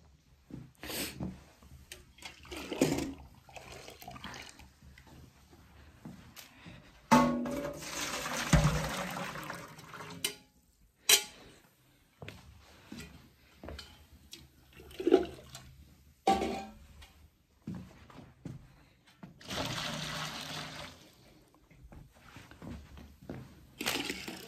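Leftover dishes washed with water in a rural rondavel: irregular bursts of splashing and pouring water separated by quieter gaps with small clatters, fairly close and without talk.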